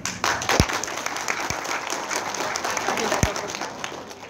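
An audience claps at the opening ceremony of a trainer training course in East Kalimantan, with steady, moderately loud applause and a few sharper thumps punctuating it.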